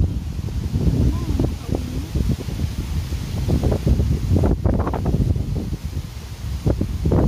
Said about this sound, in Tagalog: Ah, malakas ang hangin eh.